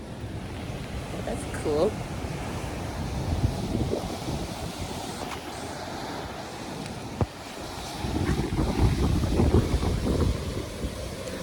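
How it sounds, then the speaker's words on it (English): Waves surge through a coastal blowhole on the rocky Maroubra to Malabar shoreline, a rolling roar with louder crashing swells near the end, mixed with gusty wind noise on the microphone while a person briefly speaks. "Oh, look, a blowhole."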